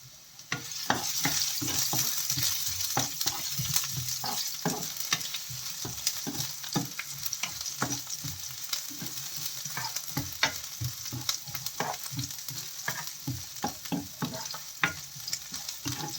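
Chopped ginger is added to garlic in a hot pan for sardines with spinach, producing a constant close sizzle broken by quick scraping stirs throughout.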